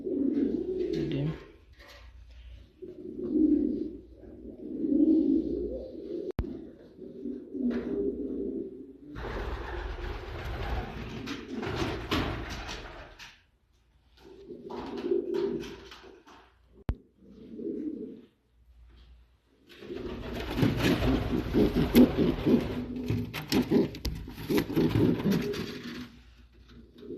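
Fancy pigeons coo in repeated low, throaty bouts close by, separated by pauses and interrupted by bursts of rustling or mechanical noise.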